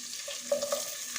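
Cashews and raisins frying in a pan give off a soft, faint sizzle with a few light stirring clicks, close by and without talk.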